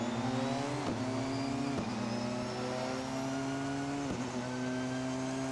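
Porsche 919 Hybrid racing engine in Assetto Corsa revving steadily in second gear, a loud continuous drone that climbs in pitch and drops sharply at three quick shifts, with no talking.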